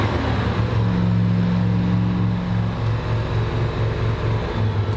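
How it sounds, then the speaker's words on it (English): A big-block V8 carbureted boat engine, the port engine, runs at a steady, throbbing idle, loud and close, with a deep pulsing rumble and no talking. "That's the port engine."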